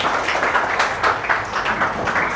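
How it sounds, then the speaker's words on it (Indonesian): Audience clapping during a class 9 achievement motivation training session for students, a brief burst of dense hand claps at close range, steady and fairly loud throughout. "Tepuk tangan."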